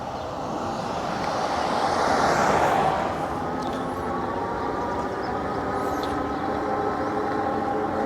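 The electric hub motor of a RAEV Bullet GT e-bike whines under pedal assist, its tone climbing as speed builds, then holding steady over rushing wind noise while riding.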